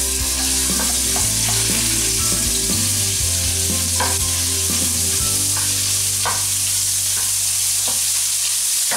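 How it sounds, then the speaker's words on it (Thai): Pork is stir-fried in a hot pan for a pan-fried egg dish, giving a loud, constant close sizzle broken by repeated spatula scrapes and clatters against the pan. "ป้าก็จะเอาหมูของเรานี่ค่ะลงไปผัดต่อเลย"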